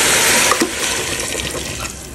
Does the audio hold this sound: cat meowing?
no